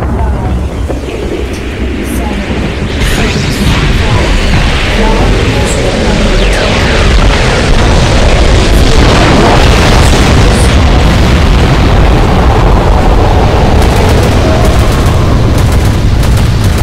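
Ion cannon strike explosions in the video game Renegade X, a loud, continuous rumble of heavy booms and blasts building and holding over many seconds, with game voice announcements faintly mixed in.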